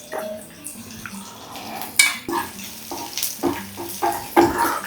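About three tablespoons of garlic frying in oil in a pan, with a steady sizzle under frequent clanks and scrapes of a utensil against the metal.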